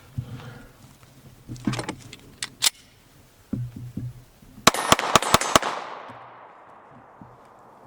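Glock 43 9mm pistol fired rapidly outdoors, a tight burst of about five sharp, loud cracks in quick succession, following a few scattered earlier shots and handling clicks, with the last report ringing off into a fading tail.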